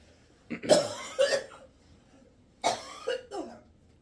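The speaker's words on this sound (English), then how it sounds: "I'm going to start coughing really hard again." Several heavy coughs in two bursts, close and fairly loud, with a throaty hawking quality and quiet pauses between them.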